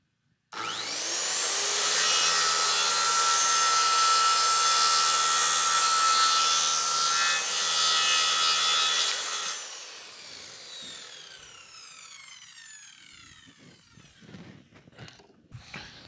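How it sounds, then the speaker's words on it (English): Power saw cutting 45-degree angles on the ends of short wooden 2x4s for an ice fishing sled: a loud, sustained whining cut lasting about nine seconds, then the blade spinning down amid light handling noises. "we're going to cut 45-degree angles on one end of our 7-inch 2x4s"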